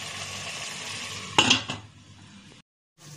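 A metal lid clanks down onto a cooking pot of frying chicken and rice noodles in a home kitchen, one sharp clatter over a steady sizzle, then the sound cuts out briefly.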